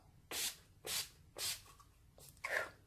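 Makeup setting spray hisses onto a face in four short, evenly spaced bursts, close and fairly quiet, with no voices.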